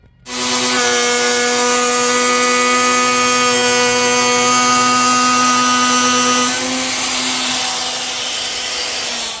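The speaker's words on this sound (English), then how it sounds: "I'm just going to stick with a power router and just route it with that" A power router cuts a profile into a cabinet base, starting abruptly into a loud, sustained high whine that dips slightly in pitch partway through and holds steady until it winds down, with no talk.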